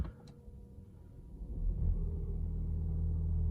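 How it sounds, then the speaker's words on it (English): A BMW 330e Touring plug-in hybrid sits nearly silent, then its petrol engine kicks in about halfway through with a low rumble that swells and settles into a steady idle drone close by. "the engine kicks in"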